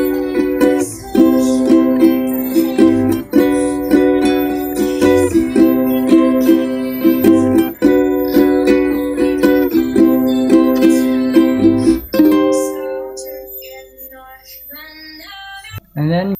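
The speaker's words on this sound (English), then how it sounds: "And with the song, it's gonna sound like this." Ukulele strums along with the recording of a song, chords ringing in a steady repeating pattern with the backing track underneath, then the strumming stops and the song carries on more quietly near the end.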